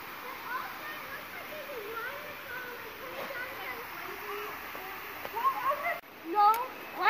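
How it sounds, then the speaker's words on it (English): A small waterfall splashes in a canyon at Shades State Park, a faint steady rushing wash in the background, with a few louder knocks and bumps close by near the end. "This is the waterfall."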